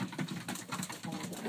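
Young racing pigeons coo and murmur in a loft before feeding, a soft, continuous flock chorus of overlapping low calls, close by.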